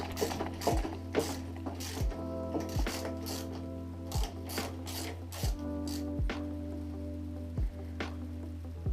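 A ratchet clicks in quick bursts, a dozen or so sharp close ticks with short pauses, working loose the fork bolts on a 70cc Beta RR stunt moped over a low steady hum.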